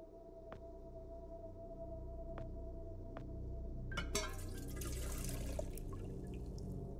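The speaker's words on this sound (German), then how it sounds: "Alles mit Wasser aufgefüllt." Water fills a vessel in The Silent Age video game, with a few isolated drips followed by a burst of splashing, pouring water that then settles into a soft, steady trickle.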